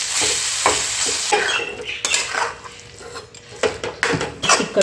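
Roasted eggplant tipped into a hot pan for bharit, with bright sizzling under repeated stirring and scraping of a utensil against the metal pan, close and loud, with occasional clinks.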